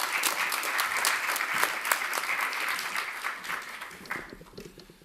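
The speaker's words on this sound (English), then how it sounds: "So let's give him a round of applause, please." Sustained audience applause fills a college auditorium at a Martin Luther King memorial event as the college president is welcomed, dense and steady before tapering off toward the end.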